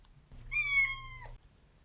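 A single cat meow, clear and fairly close, rising into a sustained tonal cry for about a second before cutting off, with quiet room background and no talk.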